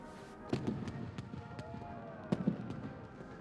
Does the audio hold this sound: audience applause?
no